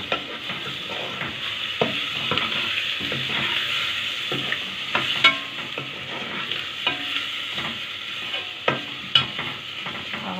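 Meat and onions fry in a pan, a steady close sizzle broken by repeated scraping and clinking as a utensil stirs them, with no voices.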